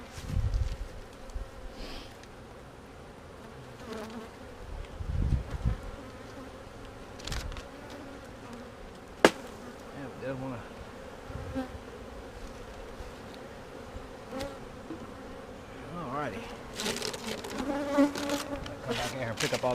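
Honey bees buzzing around an open hive during a split inspection, a constant dense hum close by, broken by scattered knocks and rustling of hive equipment.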